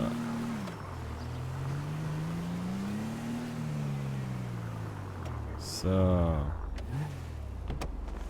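A car engine hums steadily in a GTA roleplay game, rising and falling in pitch as it idles and revs, with a brief louder mechanical burst near the end.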